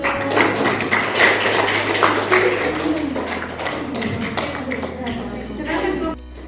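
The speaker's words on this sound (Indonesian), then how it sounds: "beri aplaus dulu untuk" A classroom audience at a teacher performance assessment applauds with a steady patter of clapping hands, heard under ongoing chatter and voices.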